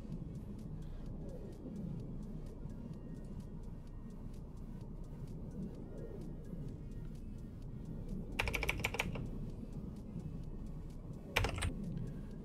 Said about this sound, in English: You got a really noisy keyboard there